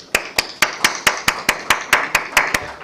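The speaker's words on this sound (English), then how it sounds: "we should have a big round of applause for everyone sitting here" Clapping at a geographic information standards conference, about a dozen crisp, evenly spaced claps in a steady rhythm, close and clear with little background.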